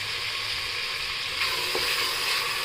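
Coriander sautéing in hot oil in a pan while making paneer pulao, a steady close sizzle with a brief stir partway through and no voices.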